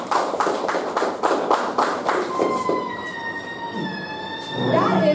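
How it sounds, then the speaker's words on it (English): Applause at a Toastmasters club meeting welcoming the general evaluator: a short burst of clapping from a small group for about two seconds, then thinning out as a sustained tone rings underneath. "The thunderous applaud."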